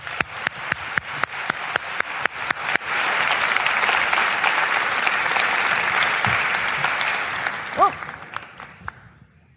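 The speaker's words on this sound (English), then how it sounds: "Give her a thunderous round of applause." An audience at a wellness summit starts with a run of rhythmic unison claps, then breaks into dense, sustained applause that fades toward the end, with a brief exclaimed voice near the close.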